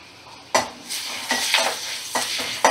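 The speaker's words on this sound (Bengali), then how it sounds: "আলুটা একটু লাল লাল করে ভেজে নেব" Thin potato strips fry in a pan over a medium gas flame while being stirred, giving a steady sizzle with four or five distinct scraping, clattering strokes of a utensil against the pan, close and fairly loud.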